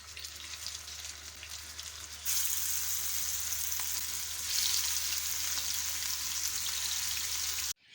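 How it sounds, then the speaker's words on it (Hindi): Gola kebabs frying in a pan of oil give a steady, close sizzle that grows louder and denser partway through, then continues without a break and with no talk. "तो अब हम बाकी के कबाब भी तल लेते हैं।"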